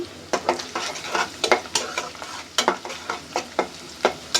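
Onions fried with salt in a pan, stirred with a utensil: steady sizzle under repeated scraping and clinking strokes, close and fairly loud, with no talking.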